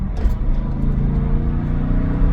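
A BMW E39 M5 pulls in second gear under load, its engine a loud, steady low rumble that holds through the whole stretch, with no talking over it.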